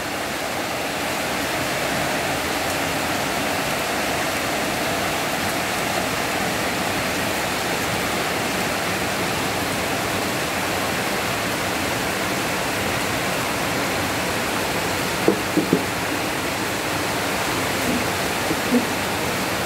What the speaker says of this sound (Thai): ฟังเสียงฝนกันค่ะ